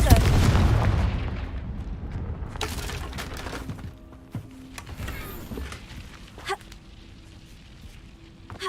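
A Confringo blasting curse in Hogwarts Legacy erupts in a heavy boom, followed by scattered cracks and shattering debris clatter as the rumble fades, with a voice briefly audible.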